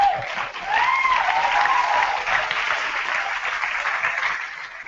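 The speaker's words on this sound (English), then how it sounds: "you keep clapping" An audience at a school talk claps in a sustained, loud wave of applause that slowly tapers, with a few faint cheers or voices rising briefly early on.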